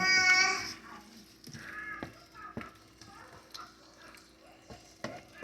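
Ingredients are stirred into a pot of spaghetti sauce with soft wet scrapes and a few sharp taps of the spoon against the pot, moderately close under a faint background hum.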